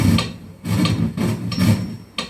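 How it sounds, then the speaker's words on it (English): Steady metronome clicks from an Alesis DM6 electronic drum module, about two per second, close and fairly loud with a slightly woody tone. "So if you want to practice with the rhythm, then just click this metronome."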